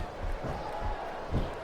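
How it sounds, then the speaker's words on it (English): A wrestling arena crowd in SmackDown vs Raw 2007 roars steadily at moderate distance, a dense continuous cheer with a brief swell near the end and no clear talk. "crowd is coming alive."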